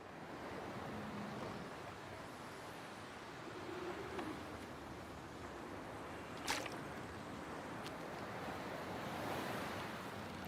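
Wind blows in a video game as a continuous, moderately loud roar with a surf-like wash and slight swells in strength.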